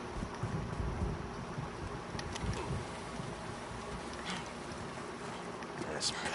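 Steady rain with a soft rumble in the Call of Duty Modern Warfare 2 video game, a continuous faint wash of falling water and wind with brief crackles.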